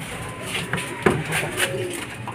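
Racing pigeons coming in to a loft during a club training arrival, with soft cooing and a few short flutters and bumps against steady outdoor background noise.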